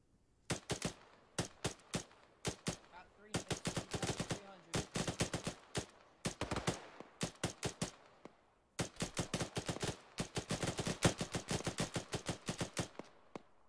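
Arma 3 gunfire in a Gulf War Desert Storm firefight: rapid automatic bursts and single shots crack loudly in dense clusters, with brief pauses between volleys.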